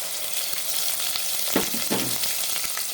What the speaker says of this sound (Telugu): ఇప్పుడు నూనె, మిరపకాయలు కాగిన తర్వాత ఇందులో ఈ మనం గ్రైండ్ చేసుకున్న ముద్ద వేయాలి